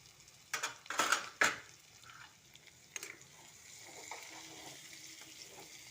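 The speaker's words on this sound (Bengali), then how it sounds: "মশলাটা ভাজা হয়ে গেছে, দিয়ে দিচ্ছি কাবলি ছোলা" Kabuli chickpeas drop into a pan of fried spices with a few sharp clatters and scrapes, then a quieter sizzle builds and holds steady, with no talking.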